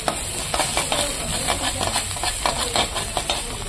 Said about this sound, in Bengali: দিয়ে দিয়েছি আমি এখানে সর্ষের তেল, কালো জিরা আর রসুন